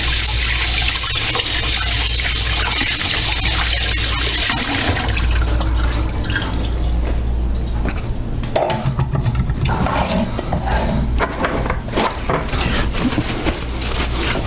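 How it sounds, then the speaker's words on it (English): Water runs steadily from a tap during hand washing, a loud close splashing rush that shifts in tone as the hands move under the stream, with occasional splashes and drips. "Let me wash my hands."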